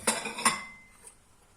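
A serving spoon clinks sharply against a plate twice while rice and green curry are dished up, followed by a fainter tap and quiet kitchen stillness.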